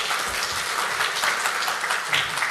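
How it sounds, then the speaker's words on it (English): Audience applause for a speaker at a medical lecture, steady clapping from a seated crowd filling the whole stretch at moderate volume, with no voices over it. "a big hand of applause for Dr."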